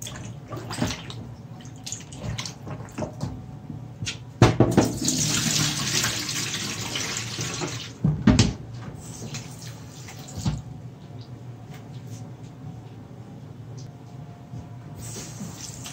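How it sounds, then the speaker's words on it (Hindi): Tap water runs into a sink while raw meat is rinsed and placed in a basket, a steady rushing stream with louder bursts and handling clatter as the meat is moved under the flow. "पानी खोलेंगे और इसको ऐसे ऐसे करके धो के टोकरी में रख करेंगे"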